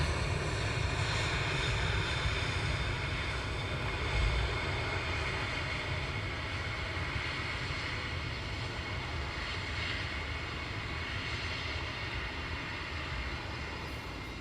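A passenger airliner taxies at Luton Airport, its engines giving a steady, loud broadband roar and whine that persists evenly throughout with no speech.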